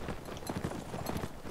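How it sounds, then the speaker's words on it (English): A horse gallops in the medieval combat game Mount and Blade, its hooves making quick, rhythmic clip-clop beats in a busy battle mix with no talking. "that was a horse"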